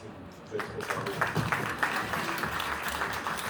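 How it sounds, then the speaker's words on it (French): An audience claps and applauds at a singing course show, a dense, steady burst of clapping that swells after a brief quieter start, with voices mixed in. "applaudissez-vous"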